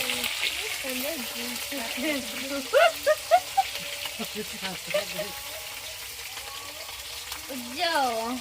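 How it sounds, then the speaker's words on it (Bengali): Steady oil sizzle from fish frying in a pan, crackling continuously under a voice that talks throughout. "এই যে মাছ ভাজা হচ্ছে"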